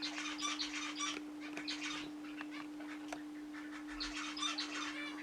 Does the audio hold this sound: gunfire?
no